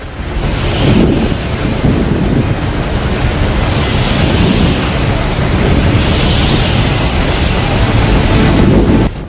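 Rough seas whipped up by Cyclone Nisarga, with waves crashing in a steady, loud roar that is blurred by strong wind buffeting the microphone. No voices are heard.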